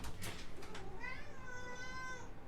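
A pet cat gives a single drawn-out meow, fairly close, over a steady background hum with a brief voice at the start.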